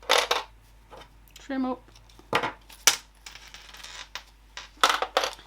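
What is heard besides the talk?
sewing clips being taken off fabric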